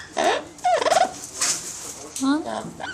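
Young pullet chickens call in a parrot cage, a few short warbling and gobbling squawks spaced over a few seconds, close and fairly loud.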